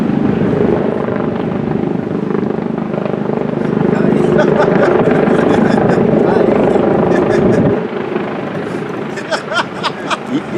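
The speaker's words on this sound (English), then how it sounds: "I know that helicopters come for us, man." A helicopter flying overhead at a London street preaching gathering, a continuous loud rotor and engine rumble that drops off near the end while people talk outdoors.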